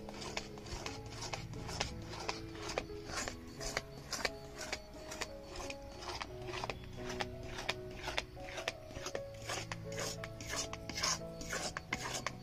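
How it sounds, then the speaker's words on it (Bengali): A spatula scrapes and stirs a thickening milk and sugar mixture in a pan, making quiet, regular rasping strokes in a steady rhythm, close and faint, without speech. "এবারে খুন্তি করে এভাবে নাড়বো, হাতায় করে নেড়ে নিলাম।"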